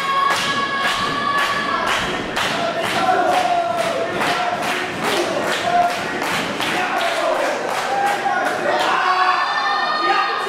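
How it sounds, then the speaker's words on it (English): A wrestling crowd at a Texas Contenders Series match chants and cheers, with rhythmic stomping or clapping thuds keeping a steady beat under loud, continuous voices. "Crowd getting behind Shimbashi as much as they can, but it's not going to do any difference."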